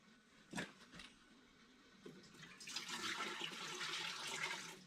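Scalded milk is poured into the pan of an old Dough Girl bread maker, a soft steady liquid stream running for a couple of seconds after a few faint clinks.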